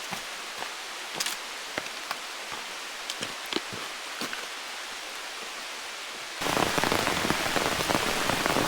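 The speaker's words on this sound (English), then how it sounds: "A little bit of rain coming down." Rain falls on a hiking trail along the Appalachian Trail, with scattered drops tapping close by before a sudden heavier, denser hiss of rainfall takes over near the end, with no talking.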